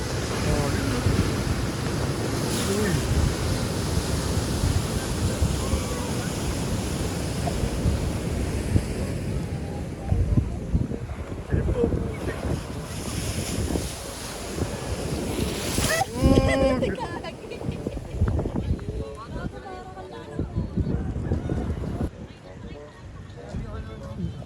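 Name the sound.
waves where river meets the sea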